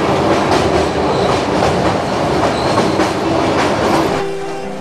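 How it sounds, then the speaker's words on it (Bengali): Kanchan Kanya Express passenger train running at speed, around 95, with a loud, close, continuous rumble, rhythmic clickety-clack of the wheels and faint squeals, steady throughout with no voices. "ট্রেনের স্পিড প্রায় 95-এর কাছাকাছি।"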